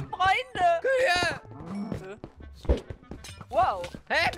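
Cows moo in a video game, several harmonic lowing calls rising and falling across the clip, mixed with a player's speech and game sounds.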